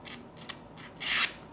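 A Victorinox multitool knife blade shaves walnut wood in a few short, close scraping strokes, ending in one longer, louder rasping cut.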